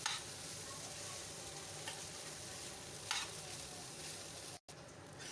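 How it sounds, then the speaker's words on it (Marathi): Leftover khichdi rice frying with vegetables in a pan: a steady close sizzle with occasional scrapes of stirring, continuous and alone, broken by one brief cut near the end. "भाजीची वाफ काढून घेतल्यावर आपण आता त्यात शिल्लक राहिलेला भात टाकणार आहोत."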